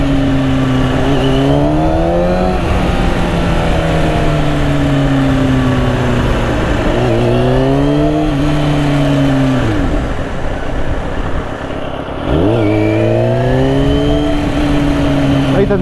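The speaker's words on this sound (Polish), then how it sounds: "Ten wydech mu fajnie chodzi." A Kawasaki Ninja 636 motorcycle engine revs through its exhaust, a loud, close, continuous drone that climbs and falls through repeated throttle blips and gear changes.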